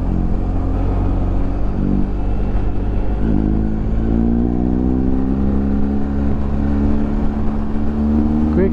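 A 2023 BMW R1250 GS motorcycle with a quick shifter pulls hard on a road. The engine drone is loud and steady, with the pitch climbing as it accelerates and brief shifts through the gears, heard against constant wind noise.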